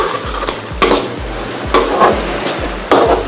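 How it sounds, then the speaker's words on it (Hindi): Masala of tomato and yogurt roasting over high heat, a loud sizzle broken by repeated scraping stirs of a spoon against the pan in a steady rhythm, close up with no voices. "अभी इस मसाले को जो है 2 से 3 मिनट के लिए तेज़ आंच पे हम भूनेंगे"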